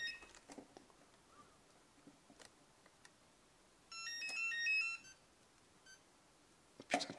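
A phone rings about a second of warbling electronic tones in the middle, quiet and somewhat distant, among scattered faint clicks and taps. A brief sharper burst of noise comes near the end.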